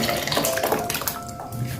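Cornmeal, already mixed with cold water, is poured into a pot of boiling water for porridge, giving a close, continuous watery pouring and bubbling that eases off toward the end.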